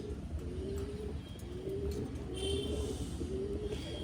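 Soft, repeated cooing of Malwai-breed pigeons close by, several low rolling calls in a steady rhythm over a constant background hum.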